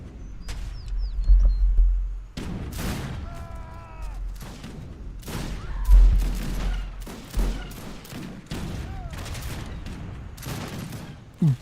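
Artillery and cannon fire during a large Age of Empires 3 Wars of Liberty battle: scattered booms and crackling volleys overlap unevenly throughout, with heavier clustered bursts and faint bird-like chirps in the mix.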